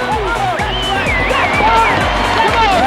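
A hometown American crowd cheers loudly and steadily through a men's gymnastics team championship, a dense, continuous roar of voices with whistles and shouts swelling slightly toward the end.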